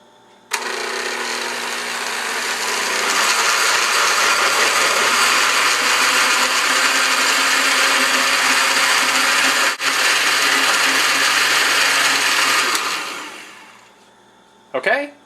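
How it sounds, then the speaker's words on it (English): A blender whirs loudly and continuously at high speed for about twelve seconds blending flan mixture, then winds down and stops. "now that it's been blended on high speed for 1 minute"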